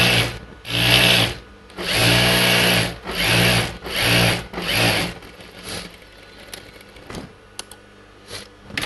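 A sewing machine stitches a seam on churidar pants, running in five short loud bursts with brief pauses between them, then going quiet with only faint handling noises.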